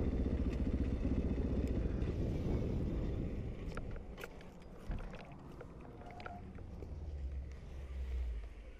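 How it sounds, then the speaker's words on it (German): A motorcycle engine roars loud and steady while passing a car, with a wheelie on a road; the drone stays close and continuous throughout, with a brief thump near the middle and the rumble easing toward the end. "er hat ihn mit einem Wheelie überholt"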